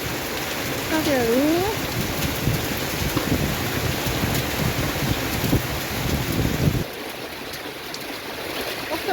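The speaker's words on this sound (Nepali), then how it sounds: "डिटेलमा हेर्नु है पानी कसरी पर्दैछ कत्रो कत्रो खोप्ला" Heavy rain falls with hail amid wind, a dense, continuous roar of pelting drops; a person speaks briefly near the start.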